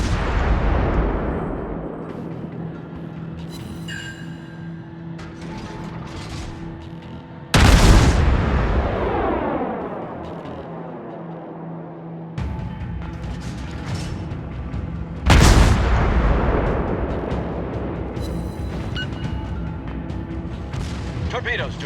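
Naval guns firing in World of Warships: deep booming salvos, each followed by a long rolling decay, recurring every several seconds against steady engine and ocean rumble.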